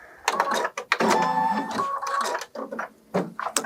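An embroidery machine whirs and stitches a placement line for appliqué in quick mechanical bursts with short pauses between, close and moderately loud.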